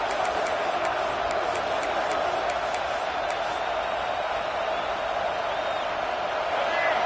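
Stadium crowd in the College Football 26 video game, a loud, steady roar that holds without letup from start to finish.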